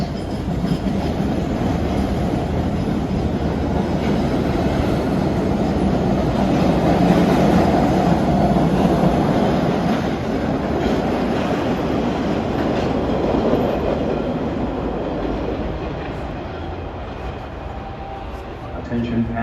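An MBTA Red Line subway train pulls into the Ashmont platform with a steady, loud rumble of wheels and rail clatter that swells midway and eases toward the end, with no voices heard.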